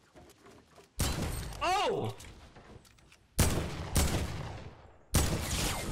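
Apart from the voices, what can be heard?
gunfire in Fortnite video game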